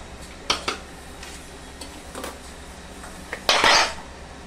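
Metal clatter of a lid set onto a pot of chicken badami gravy on a slow-cooking stove, with a couple of light clinks early on and a louder, longer rattle near the end, no talk.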